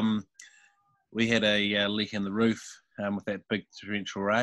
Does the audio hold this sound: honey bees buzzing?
no